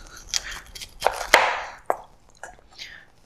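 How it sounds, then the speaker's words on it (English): A kitchen knife cuts through the stalk base of a broccoli head in a few crisp, irregular chops and crunches, close and clear against a quiet background. "Another way is you just take the knife and you cut at the base here."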